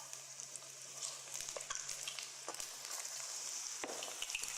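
Spoonfuls of batter for fried eggplant slipping into hot frying oil, a steady bright sizzle and crackle with a few soft plops, heard close and fairly quiet with no talking.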